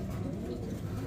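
An angry male Andalusian pigeon coos in a steady, low rumbling stream, close and continuous, with other pigeons murmuring in a busy loft.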